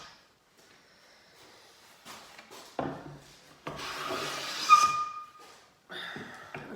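A hand plane, a Stanley No. 5 or a low angle Veritas, draws a shaving from wood in quiet close strokes, a soft rasping hiss on each pass with short pauses between.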